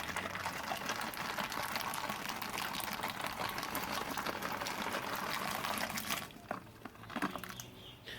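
Wort at a rolling boil in a brew kettle for a 100% Citra hazy IPA, with Citra hops just added: steady loud bubbling and churning that fills the scene, then drops off near the end into a few quieter sloshes.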